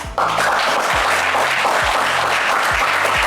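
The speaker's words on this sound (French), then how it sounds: "on peut vous applaudir bien fort" Studio audience applause on a French game show bursts in after a brief pause and carries on steadily, a dense, loud wash of clapping with no one speaking over it.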